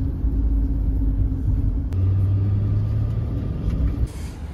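A bus rolls from the airport toward the city, its engine a loud, steady low rumble with a brief whine partway through and a short clatter near the end.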